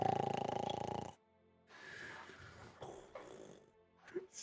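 A person's voice imitates snoring in a deep, rumbling, gravelly drone lasting about a second, followed by quieter breathy, shuffling sounds and faint talk during a tabletop role-playing session.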